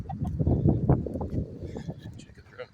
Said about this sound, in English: Chickens running around out here.